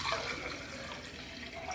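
Chilled water pours steadily into a drinking vessel, a brief continuous splashing trickle heard up close with no talking.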